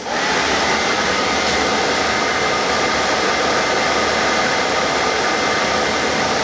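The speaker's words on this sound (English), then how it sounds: "We'll power up the motor." An electric motor drives a vacuum test rig for motorcycle air filters, producing a loud, steady, broadband whoosh that holds constant without a break from start to finish.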